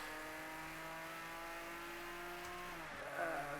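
A Porsche 911 Carrera RSR 2.8 racing engine in Project CARS 2 holds a steady high drone, then drops in pitch as it lifts off with a brief burst of revs near the end.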